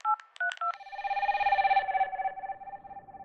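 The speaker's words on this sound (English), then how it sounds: "Angela continues to phone her mother" A telephone in Toronto dials out with a quick run of touch-tone beeps, then a steady ringing tone follows, clear and alone.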